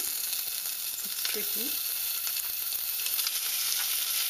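Smoked streaky bacon sears in a frying pan, giving a loud, steady, close sizzle and crackle throughout with a brief stir partway.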